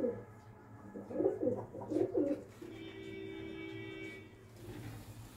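Pigeons cooing nearby in soft, rolling bursts, with a steady low hum running underneath and no voices over the calls.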